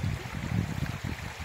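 A babbling brook in a mountain valley makes a soft, continuous burble and gurgle of running water, fairly faint and close by, with uneven low splashy pulses and no speech.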